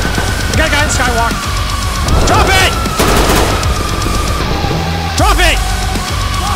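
Rapid bursts of automatic gunfire in the tactical shooter Ready or Not, loud and close, with whooshing impacts and chaotic combat noise layered over a player's agitated shouting.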